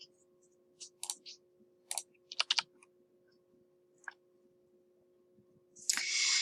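Someone types on a computer keyboard in a quiet room, short bursts of close key clicks with pauses between them, then a brief louder rustle at the end.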